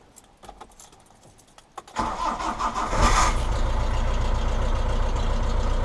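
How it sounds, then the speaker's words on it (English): A 1993 Ford Transit camper van engine cold-starting: a quiet stretch, then the starter catches near two seconds and the engine rises into a loud, steady idle that continues to the end. "Well, here we go, her first cold start."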